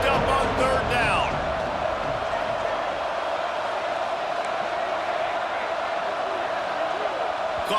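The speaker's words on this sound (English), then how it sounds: "crowd getting this defense whipped up on 3rd down." A stadium crowd roars steadily to rally the defense on third down in the College Football 26 video game, a dense continuous wash of cheering under a commentator's voice.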